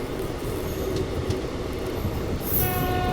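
A train pulls away from Anand station as a steady low rumble of wheels on rails, with a faint high squeal and a brief horn-like tone near the end, no voices.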